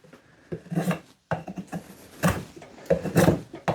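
Mossy Oak 27-in-1 multi tool knife blade shaving curls off a piece of wood, a series of close, rough scraping strokes coming in uneven bursts with short pauses between them.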